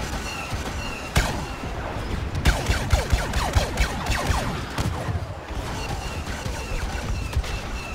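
Blaster cannon gunfire in the Star Wars Battlefront video game during the Walker Assault on Hoth: loud, sharp shots and crackling bursts over a dense, rumbling battle din.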